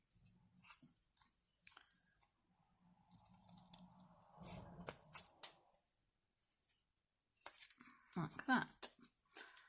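Scissors snip through paper while cutting out a shape, with short irregular crunching cuts scattered between bursts of nearby talk, a louder flurry of snipping near the end.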